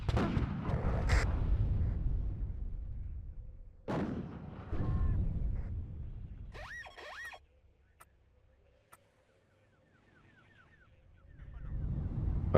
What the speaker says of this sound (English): the NSV is firing at that Spartan, dealing a decent amount of damage